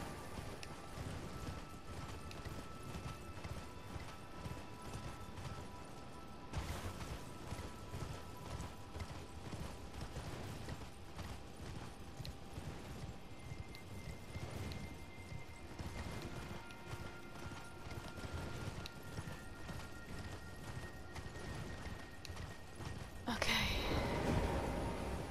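Horse hooves clip-clop steadily in Elden Ring gameplay, a continuous rhythmic galloping beat at moderate level, mixed with game music and ambient effects throughout.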